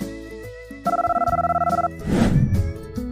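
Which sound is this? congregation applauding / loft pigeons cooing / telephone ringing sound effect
telephone ringing sound effect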